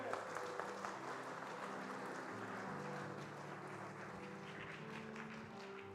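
A church congregation applauding at a Sunday service baptism, a dense, even wash of clapping from many hands heard at some distance, fairly faint and steady throughout.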